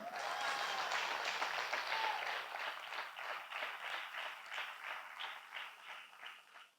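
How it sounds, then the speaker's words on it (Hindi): A church congregation claps loudly and steadily at an anniversary gathering of a fellowship, dense applause that thins slightly and becomes more ragged toward the end, with no voices. "यीशु मसीह के नाम की महिमा के लिए जरा जोर से बजाओ ताली"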